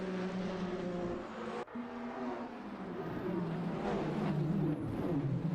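Virtual race cars roll toward the start line at Daytona in a 24-hour sim-racing event, a dense, continuous engine roar from many cars that briefly dips early on, then swells steadily louder.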